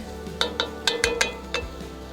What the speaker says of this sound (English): I hear sizzling. I hear sizzling.